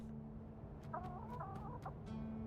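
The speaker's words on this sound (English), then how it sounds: "Chickens." Chickens clucking in the video game Tainted Grail: The Fall of Avalon, a short run of warbling clucks over a steady low game hum and ambience, close and moderately loud.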